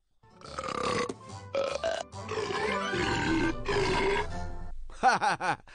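A cartoon creature lets out a long, drawn-out guttural burp, rumbling and grunting for several seconds, then gives a few quick, punchy burps at the end, loud and up close.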